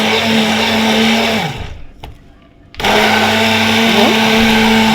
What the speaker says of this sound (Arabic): انا قلت اضربه بالهاند بلندر اسهل لان هيفك اي تكتلات فيه واسرع